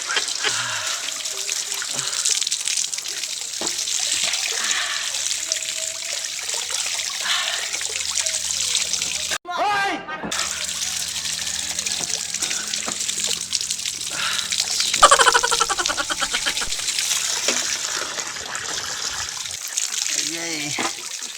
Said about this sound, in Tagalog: So tanawan ninyo unsa maligo ang mga pobre.